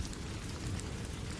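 Rain falls steadily at night, a soft, continuous patter and hiss heard at low volume with no voices.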